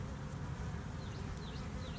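Small honey bee swarm buzzing, a continuous low hum of many bees, close and steady, with occasional higher passes of individual bees flying by.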